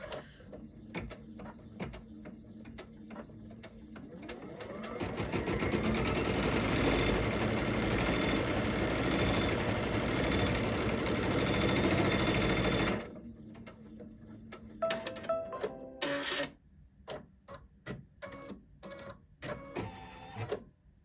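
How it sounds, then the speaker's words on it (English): A sewing machine guided by a laser stitches a quilt border in one sustained run of rapid mechanical whirring lasting about eight seconds, framed by scattered clicks and handling noises before and after. "now all I have to do is say okay and sew"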